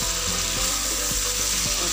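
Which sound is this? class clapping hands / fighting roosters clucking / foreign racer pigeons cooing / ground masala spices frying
ground masala spices frying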